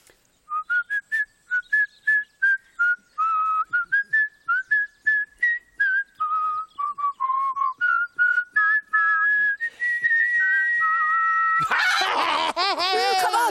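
Fimbo from the children's show Fimbles whistles a long, lilting tune of many short, bright notes in a quick rhythmic run, close and clear, ending in a burst of busier, warbling sound.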